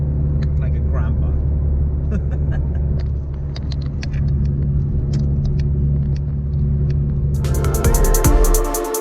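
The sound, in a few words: Subaru BRZ car engine while driving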